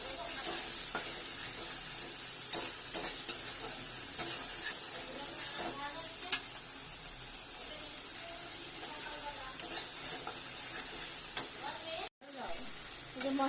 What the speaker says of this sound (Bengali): মশলাটাকে ভালো করে কষিয়ে নিয়েছি।